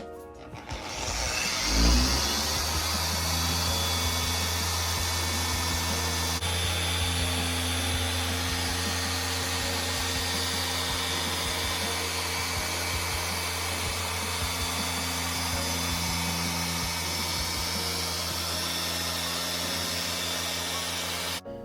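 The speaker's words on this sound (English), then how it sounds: "I'm going to keep it at 5, and now we're going to polish out all the haziness to the headlight." A power polisher set at speed 5 buffs out a hazy headlight on a black Honda CR-V, spinning up and then running as a loud, steady, close whine with no speech.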